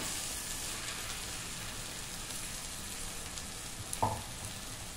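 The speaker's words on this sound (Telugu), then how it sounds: "ఇప్పుడు మ్యాక్సిమం చిక్కుడుకాయ అయితే నూనెలో బాగా ఎగిపోయింది. ఇప్పుడు టమాటా కూడా ఎగుతుంది." Broad beans and tomato fry in oil with a soft, steady rain-like sizzle at low volume, broken by a single faint clink near the end.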